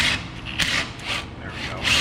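Metal pry wrench scraping and rasping against suspension parts on an old Jeep Wrangler 4.0 4x4 during a rebuild, a few close, rough grinding strokes in bursts with brief pauses between them.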